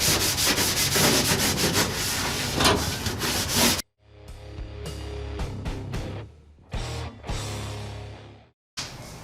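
Scrubby side of a sponge rubbing Evapo-Rust solution over loosened rust on metal, a steady close abrasive scrubbing that continues in strokes and stops briefly between passes.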